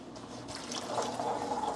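Water is poured into a pan of chilli pineapple sauce with chopped onion and chili flakes, a short, steady trickle and splash heard close up with no talking.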